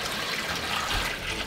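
Water pours steadily into a container being refilled for a dog, a continuous close splashing rush with no talk.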